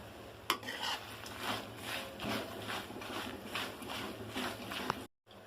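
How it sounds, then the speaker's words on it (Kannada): Flattened rice (avalakki) with ajwain being stirred in a pan, a steady scraping and rustling with rhythmic swishes and faint sizzle, close and moderately quiet, ending in a brief silence. "ಇವನ್ನ ಹಾಕಿ ಎಲ್ಲಾನು ಇನ್ನೊಮ್ಮೆ ಮಿಕ್ಸ್ ಮಾಡೋಣ."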